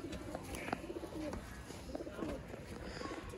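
Breeder pigeons coo in a loft, soft low calls repeating over a continuous background murmur, fairly faint, with someone talking in between.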